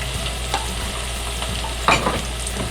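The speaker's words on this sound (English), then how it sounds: "let it also saute a little in this beautiful aromatic oil" Chopped red onion sautés in aromatic oil for a cashew nut curry, giving a steady close sizzle with light stirring scrapes and a louder burst of frying near the end. No one speaks.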